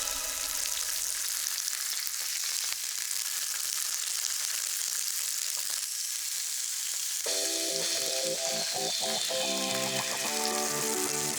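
Tofu frying in sage-infused oil, a steady close sizzle and crackle running throughout, with a brighter bubbling spatter in the final few seconds.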